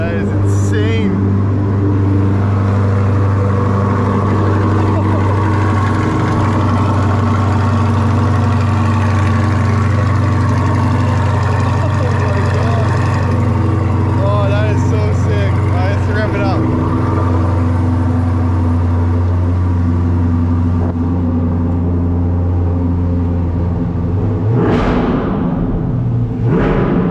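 A rebuilt 2020 Corvette C8 Z51 V8 engine idles steadily with a low rumble throughout, then briefly surges near the end, with talking faintly over it.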